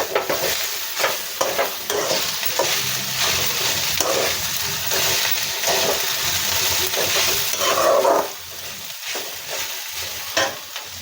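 Coconut masala for a home-style chicken curry stirred and frying in a pan, with a steady loud sizzle and repeated scraping strokes of a spoon throughout.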